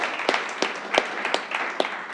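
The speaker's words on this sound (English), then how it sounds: "so we gave her a round of applause, but let's do it again" A conference audience gives a round of applause, sparse, irregular hand claps sounding at moderate distance in a large room.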